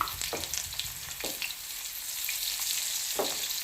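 Eggplant roasting on a hot griddle for spicy bharit, giving a steady, close frying sizzle with a few brief crackling bursts and no talking.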